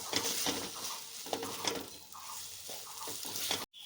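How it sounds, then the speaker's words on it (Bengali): Tomato sauce is stirred into a vegetable filling in a frying pan: irregular close scrapes and soft knocks of a spoon over a gentle sizzle, ending in a brief pause, with no speech. "টমেটো সসটা দিয়ে খুব ভালো করে মিশিয়ে নেব"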